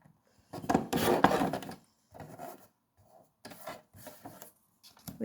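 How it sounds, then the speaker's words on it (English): Scissors or a trimmer cut down a paper card sentiment for a pinwheel card, giving close, dry rasping bursts in short separate passes with pauses between. "So I'm just trimming the sentiment down."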